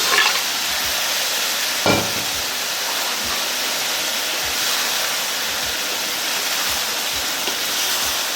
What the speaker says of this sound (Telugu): ఇందులో కరివేపాకు కూడా వేసేసుకుంటాము. వేగిన తర్వాత మనం ముందుగానే రుబ్బు పెట్టుకున్న పచ్చడిని అందులో వేసేసుకుందాము.